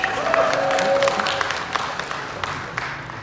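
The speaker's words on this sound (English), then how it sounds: "Oh, you guys can clap for that, it's okay." Audience applause at a finance meetup, a short burst of clapping from a crowd that tapers off over a few seconds, with a faint tone and some chatter mixed in.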